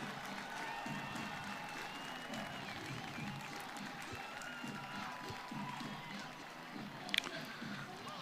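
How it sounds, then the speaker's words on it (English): Spectators at a Richmond–Duke men's lacrosse game cheer and applaud in a steady, distant roar, with a commentator talking over it throughout. "this crowd sensing the opportunity for Richmond on its feet"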